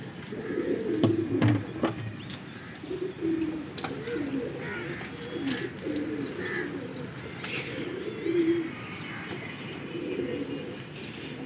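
Pigeons coo in a repeated soft, throaty rhythm at moderate distance, steady across the stretch with faint background noise and occasional brief knocks.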